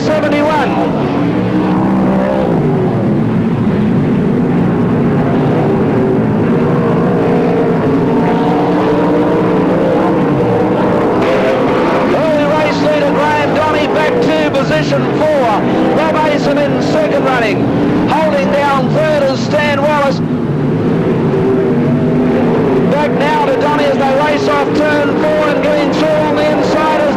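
Sprint cars race around a 1983/84 PCR speedway, with engines rising and falling in whining sweeps as they pass. A race commentator talks loudly over the engine noise throughout.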